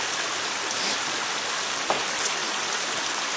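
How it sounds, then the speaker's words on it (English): A creek flows in a steady, broadband wash of water, close and even throughout, with no voices heard over the constant rushing. "It's a beautiful creek."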